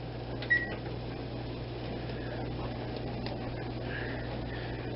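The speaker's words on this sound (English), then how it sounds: "Kitchen timer. We want 10 minutes." A kitchen timer being set for ten minutes beside a home-brew beer boil, a brief electronic beep over a steady appliance hum.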